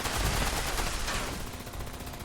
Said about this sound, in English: I just hold the button down, just keep shooting.